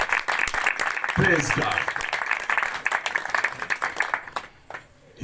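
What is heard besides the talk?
congregation applause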